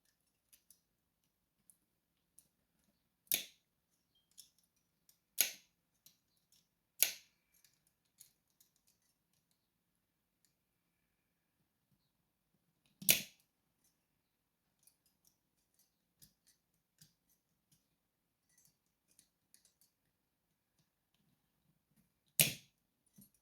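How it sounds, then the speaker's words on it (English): Sharp metallic clicks and snaps from prying the C-clip off a metal 9-pin dimple lock, a few distinct loud clicks spaced seconds apart with fainter tiny ticks between, close up in a quiet room. "Try to remove the C-clip."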